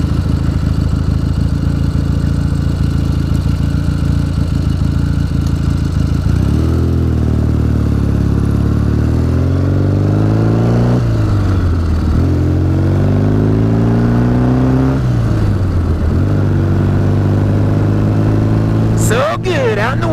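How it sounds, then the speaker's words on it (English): A motorcycle rides along a bumpy road on an open ride, its engine droning steadily up close with pitch rising and falling through gear changes, wind rushing throughout. "it's good to be out riding, getting that motorcycle therapy"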